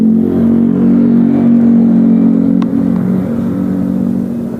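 A motorcycle engine revs loud and close, a steady low drone with a brief rev mid-way before easing off; no one speaks.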